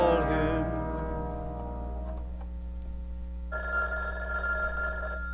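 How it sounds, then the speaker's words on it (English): Telephone bell ringing in a theatrical opera-style musical scene, a sustained ringing tone over steady low hum, fading then returning as a second bright ring near the end, with no talk. "Maybe I'll pick up a phone and call him."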